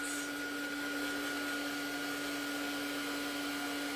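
A hand-held dryer blows a steady, close whirring hum with a constant tonal whine as it dries paint layers on an art journal page, with no talk over it.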